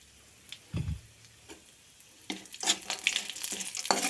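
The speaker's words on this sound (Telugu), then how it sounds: "మనం ముందుగా కచ్చపచ్చగా దంచుకున్న ఈ బాదం గింజలని ఇందులో డీప్ ఫ్రై చేసుకోవాలి" Crushed almonds deep frying in Dalda: a few scattered clicks, then a rising crackling sizzle with spoon taps over the last couple of seconds, close and clear with no talking.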